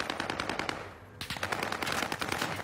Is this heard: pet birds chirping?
no